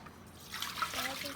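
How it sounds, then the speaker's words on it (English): Water poured into a 20-litre cracker biscuit bin while making otai, a faint trickling splash that grows slightly louder toward the end. "Just pour some water in it"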